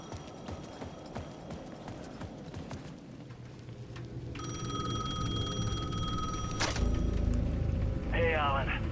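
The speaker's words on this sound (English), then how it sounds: "The payphone at the edge of the plaza was ringing again." A payphone rings in the video game Alan Wake 2, a steady electronic ring that starts midway and rises over ambient footsteps and hum, ending with a short chirping tone.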